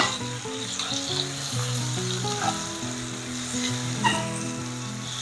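Food fries and sizzles steadily in a pan for spaghetti, a continuous close hiss with a couple of sharper scraping bursts as it is stirred, all under tuneful background music and with no talking.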